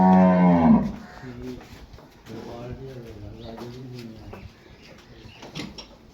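A Nili-Ravi buffalo gives one loud, deep low at the start, held near the microphone. After it comes quieter farmyard background with birds cooing and people talking.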